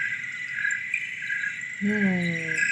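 Crickets trill steadily at night in the countryside in high, continuous chirps, then a low voice briefly speaks beneath them near the end.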